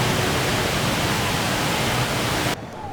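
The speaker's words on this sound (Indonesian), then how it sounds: "Waterfall." Indoor waterfall at Jewel, Singapore airport, a dense steady roar of falling water, loud and unbroken until it suddenly drops away near the end.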